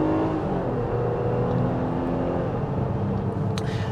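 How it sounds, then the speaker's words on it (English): A 2024 Nissan Pathfinder Rock Creek with a V6 accelerates under steady engine drone and road roar, heard from inside the cabin at constant loudness throughout. "This is exactly the kind of acceleration that people are going to expect in a vehicle like this."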